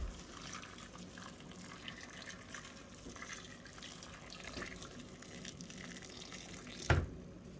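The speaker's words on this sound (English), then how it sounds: "And then I cover it all with water with the stock pots." Water runs from a tap into a stock pot for a noodle dish, a soft continuous stream that stays fairly faint, ending with a brief clunk.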